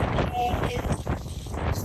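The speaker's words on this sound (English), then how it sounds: "It's windy, but there's no rain." Gusty wind from Cyclone Alfred, with no rain, buffets the microphone with a low rumbling roar, and a voice talks faintly underneath.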